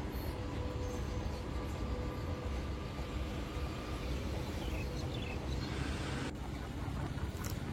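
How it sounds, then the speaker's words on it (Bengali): A goods train of Indian Railways passes alongside a roadside bike ride, a broad continuous rumble with wind noise that thins slightly toward the end, no talking. "ওই যে সাইডে একটা মাল ট্রেন যাচ্ছে,"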